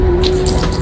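Tap water pours from a bottle onto a bicycle during cleaning, a steady close hiss of running and splashing water for under a second.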